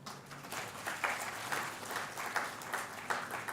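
Audience at an international arbitration conference breaking into steady applause, a dense wash of many hands clapping heard from a distance at moderate volume.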